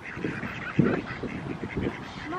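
Ducks quack in a short series of nasal honking calls outdoors, moderately close, with light background noise and no clear talk.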